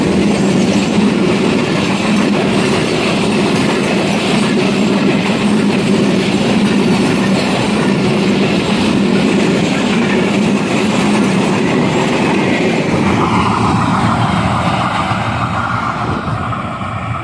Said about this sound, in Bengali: এই যে ট্রেনটা আসতেছে এই যে ট্রেন আসতেছে